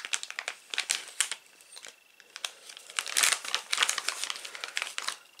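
Crinkly plastic packaging being unwrapped from DeLorean model kit parts, close and fairly quiet, with irregular rustling bursts and crackles.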